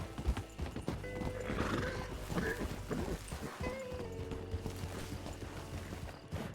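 Horse hooves clip-clop steadily in RedM, with several horses close by in a rapid, continuous rhythm and an occasional whinny mixed in.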